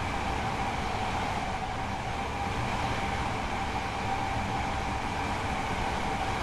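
A tilting passenger train in Train Sim World 4 on the Doncaster to Peterborough line races along, its dense, unbroken rumble and rushing wind noise holding steady and loud throughout, with no voices.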